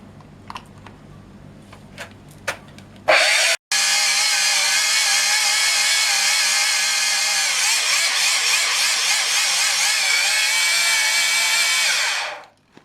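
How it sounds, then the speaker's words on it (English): A powered mill grinds coarse potassium nitrate into fine powder, starting abruptly after some light knocks, with a brief cut, then running as a loud steady high whine for about nine seconds before spinning down. "Milling potassium nitrate from a coarse salt-like consistency down to a fine powder."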